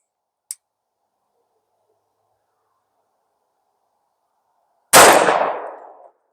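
A single sharp, loud report from a Grand Power P40 10mm semi-auto handgun with a rotating barrel, fired with a double-action trigger pull, rings out after a faint click and silence, then decays over about a second.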